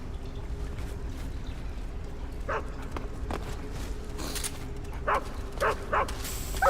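A dog in Metal Gear Solid 3 gives a series of short barks and yips, a few isolated ones early and then a quick cluster of three or four near the end, over a steady low background hum.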